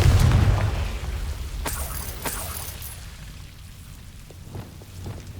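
A Confringo blast spell in Hogwarts Legacy goes off as a loud, rumbling burst at the start, followed by a few sharp crackles that fade into a quieter, hissing tail.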